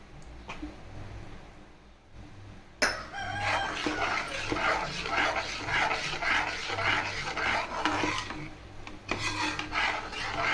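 A thick urad dal kali with jaggery and oil is worked in a pan, giving a continuous rough scraping and rubbing that swells and eases in uneven strokes, close and fairly loud, with no talk.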